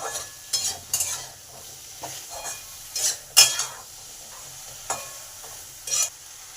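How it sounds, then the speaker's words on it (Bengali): Okra tossed with salt and turmeric in a hot pan: a quiet sizzle broken by repeated sharp scrapes and clinks of a spatula against the metal, irregular and close, with no talking. "নুন আর হলুদ দিয়ে ভালো করে ভেন্ডির মধ্যে মিশিয়ে দিলাম।"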